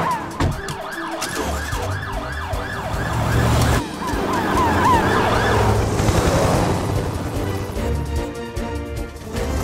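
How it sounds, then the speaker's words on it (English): A mountain rescue ambulance siren wails loudly and steadily, its cycling tone rising and falling over a motor hum and background music, with no voices. "Helen, you follow behind in the mountain rescue ambulance"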